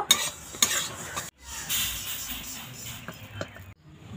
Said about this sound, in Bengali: এবার এই তিলটা ভেজে নেব শুকনো খোলায়। তিলটা এইভাবে নাড়তে থাকবো।